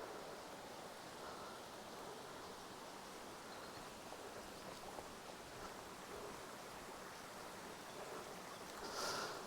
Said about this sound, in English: Listen to the sound of the water, my friends, as it flows gently down a stream